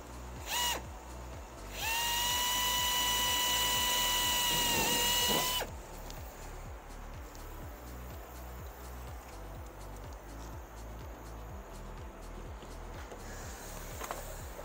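A power drill bores holes through an aircraft's right wing bottom skin into the ribs and D-spar: a short burst, then a loud steady whine for several seconds before stopping, over a rhythmic mechanical ticking background.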